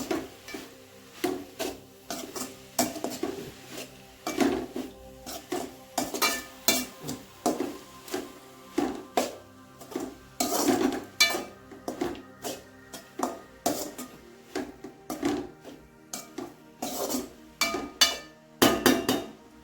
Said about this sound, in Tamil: உப்பு போட்டு நல்லா கிளறி விட்டுருங்க